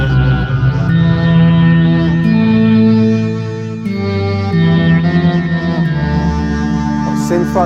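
A guitar processed through a Line 6 Pod HD500 synth effect rings out in thick, warbling synth-like tones with echo and distortion, sustained and loud, shifting pitch through a slow phrase.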